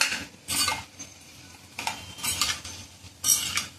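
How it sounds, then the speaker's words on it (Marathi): Jaggery being stirred into cooking dal in a pot for puran poli and katachi amti, heard as a few scraping, clinking bursts of a spoon against the metal pot over a faint background, with no talking. "आता गूळ विटेपर्यंत आपल्याला ही डाळीमध्ये गूळ मिक्स करायचे."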